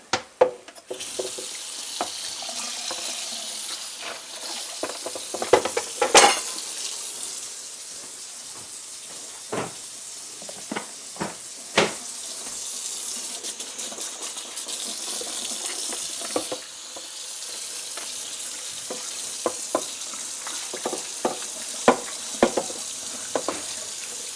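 Tap water runs into a sink as a cooking pot is rinsed out, a continuous close hiss of flowing water broken by scattered clanks and splashes of the pot, with no voices.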